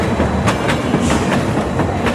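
Konkan Kanya Express pulling out of Mumbai's Chhatrapati Shivaji Maharaj Terminus, its wheels clicking over rail joints in a steady repeating clatter, loud and close with continuous rumble.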